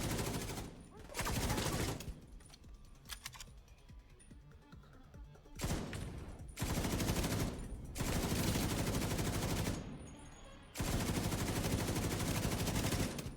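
An LMG machine gun from the video game The Division 2 fires in long loud sustained bursts, about four extended strings of rapid gunfire separated by quieter stretches of lighter shots and game noise, with a voice talking at times beneath.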